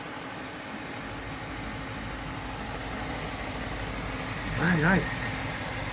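Fuel-injected Ford 4.6L V8 idling in a restomodded 1955 Mercury 100 stepside truck, a steady moderate idle rumble under a man's brief remark near the end.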